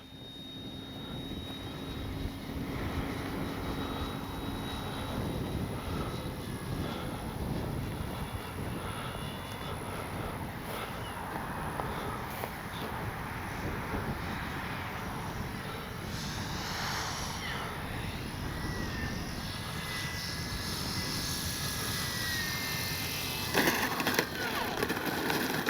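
A radio-controlled F4U Corsair warbird model airplane passes overhead on a go-around at a flightline, its engine a steady drone that carries throughout, fairly loud against outdoor wind noise.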